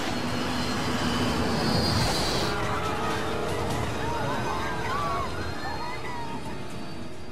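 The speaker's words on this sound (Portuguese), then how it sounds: "O avião perde altitude e começa a cair." An airliner in trouble roars as it loses altitude and falls, a loud, steady rush of engine and wind noise with shifting tones, under dramatic music and talk.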